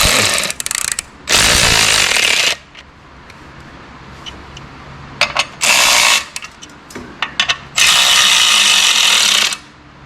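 A low-torque electric ratchet buzzes in three loud, close bursts while tightening clutch pressure plate bolts, with metallic clicks and tool handling between runs.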